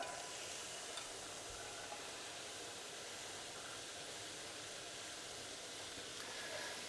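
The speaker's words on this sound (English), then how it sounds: "Love the sizzle." Ground beef, ground pork and soft vegetables including carrots fry in a hot pan for shepherd's pie, giving a steady, continuous sizzle and crackle close up throughout, with no talking.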